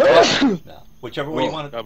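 A person lets out one loud, sharp sneeze at the very start, followed by a short gap and then nearby conversational talk.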